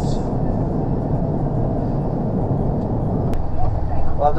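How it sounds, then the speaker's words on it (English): Passing road traffic in the UK heard from inside a truck cab, a loud continuous low rumble and roar of vehicles going by, with a brief sharp noise near the end. "I've just been listening to the traffic there"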